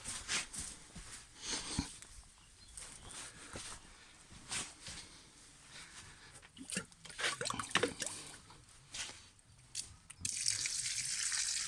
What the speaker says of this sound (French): Et puis bien sûr, j'arrose. Je prends mon arrosoir.